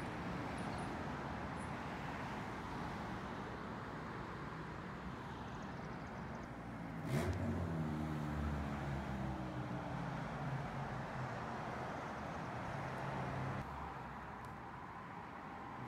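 Road traffic with cars including an Audi passing by, a steady distant roadway rumble with one vehicle swelling louder as it goes past midway, then fading back into the background hum.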